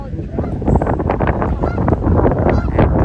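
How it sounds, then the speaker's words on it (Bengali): Geese honk at a park pond in Chicago on a breezy afternoon. The honking is steady and busy, mixed with gusty wind noise across the microphone. "কত গিজ ওপারেতে দেখেছো"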